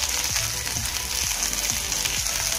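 Masala with green chillies, curry leaves and peas fries in a pan, making a steady sizzle with soft rhythmic stirring scrapes about every half second. It is close and even, with no speech.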